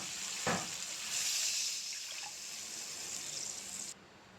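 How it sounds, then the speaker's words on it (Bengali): Water is poured into a pan of spices fried in oil with a little sugar, giving a loud, steady sizzle and hiss that flares briefly near the start and cuts off abruptly near the end. "মশলা থেকে তেল ছেড়ে দিয়েছে। এখন দিয়ে দেব জল।"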